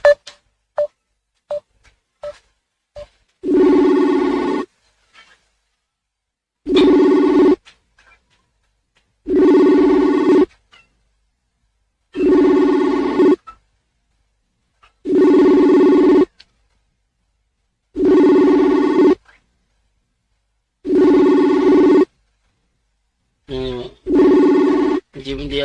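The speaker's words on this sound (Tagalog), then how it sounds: "So, ating balikan tawag yung kanyang linya." A phone line rings while a call is placed, with short dialing beeps first and then regular long ringback tones repeating about every three seconds, loud and clear with no one answering.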